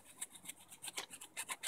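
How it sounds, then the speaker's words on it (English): A chainsaw file rasps against soft copper pipe to clear a burr left by a tubing cutter, about a dozen short, even strokes in a steady rhythm, close and fairly quiet with no talk. "I think I might try this chainsaw file first and see if I can take the majority of it off"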